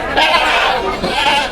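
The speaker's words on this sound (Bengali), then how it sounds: "এখানে অনেকগুলো ছাগল আছে" Goats bleat at a crowded livestock market for sacrificial animals, a loud, wavering nearby cry filling the short moment over crowd murmur.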